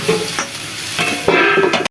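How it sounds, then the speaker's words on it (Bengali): Mixed vegetables for shukto fry in a covered pan with little oil. When the lid comes off, a spatula stirs them in two quick, loud bursts over a bright sizzle, and the sound cuts off abruptly. "মাঝে মাঝে ঢাকাটা খুলে একটু ভালো করে নেড়ে চেড়ে নিচ্ছি, সব সবজিগুলো যাতে ভালো করে একটু ভাজা ভাজা হয়ে যায়।"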